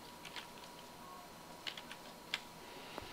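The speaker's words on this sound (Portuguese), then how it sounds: "Na célula C1, eu vou digitar a palavra ramal." Quiet keystrokes on a computer keyboard while a word is typed into a spreadsheet cell, a few scattered soft clicks spread over a few seconds against a low background hum.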